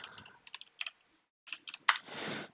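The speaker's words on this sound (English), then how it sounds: "You just open your command line and type Python." Keys on a computer keyboard are tapped in short clusters of crisp clicks, close and fairly quiet, with a pause midway and a brief rustle at the end.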